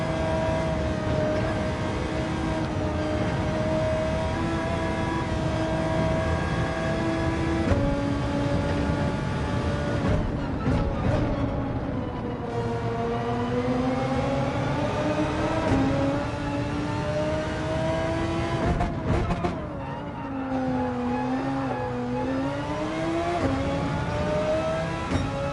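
A race car in Gran Turismo 7 drives hard through a 90-degree corner while sliding, with a loud, continuous engine drone whose pitch rises and falls as it revs and eases off, heard alone.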